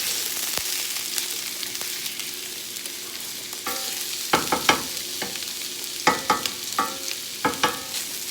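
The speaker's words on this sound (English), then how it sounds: "So as you can see, I'm just breaking up the meat." Ground meat sizzles in a pan while being broken up, with a continuous frying hiss punctuated by repeated scraping and tapping strokes of a utensil, growing more frequent toward the end.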